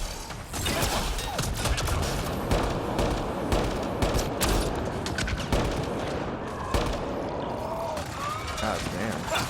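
Sci-fi gunfire in Mass Effect: Andromeda while exploring Kadara's vault, with dense overlapping bursts and mechanical clatter running steadily throughout, mixed with game effects and voices talking over the combat.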